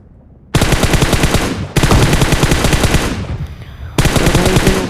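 Rapid game gunfire in PUBG, in a match where the AWM sniper rifle is in use: loud, dense bursts of shots cut off by brief pauses, harsh and close.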